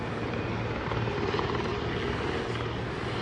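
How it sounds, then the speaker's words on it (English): A helicopter roaring loudly overhead near the White House, its rotor chop and engine filling the air continuously. "these helicopters been flying in and out of here left and right"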